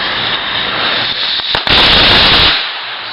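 Daytime fireworks at a backyard display set off with a lighter, bursting loudly in a sharp double bang followed by a long crackling, hissing shower of sparks that fades near the end, close to the listener.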